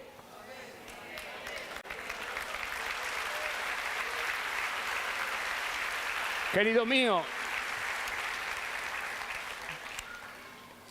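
A church audience claps steadily through a sermon, a broad wash of applause under a man's spoken words, with a brief tonal swell partway through.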